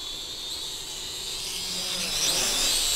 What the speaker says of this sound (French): Donc là, vous voyez, le drone va plus vite.